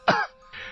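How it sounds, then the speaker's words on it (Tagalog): A young man coughs, two harsh throat-clearing bursts close by, the first loud and sharp, the second softer and rougher, with a brief quiet gap between. "Walang tigil ang pag-ubo ng binata."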